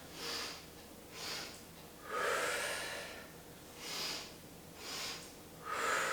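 During a stretch-and-strengthen exercise, a person breathes in as the arms rise and out as they lower. The steady, rhythmic breaths come about once a second, soft and airy, with no voices.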